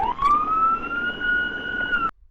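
A police car siren wailing during a pursuit, a loud rising electronic tone held steady for about two seconds before cutting off abruptly.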